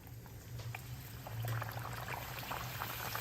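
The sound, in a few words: wheat flour puris frying in hot oil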